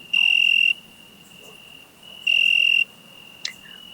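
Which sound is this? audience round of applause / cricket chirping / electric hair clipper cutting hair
cricket chirping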